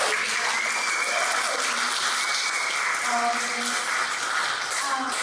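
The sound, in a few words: audience applause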